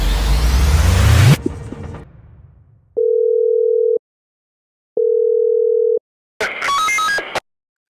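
A telephone call to the police opens with a loud whooshing rush, then two steady one-second tones sound alone with pauses between, followed by a short bright electronic burst.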